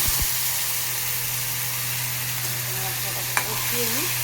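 Spice paste of cumin and turmeric powder with a splash of water frying and being stirred in a pan, a steady hiss over a low hum, with a sharp utensil tap near the end.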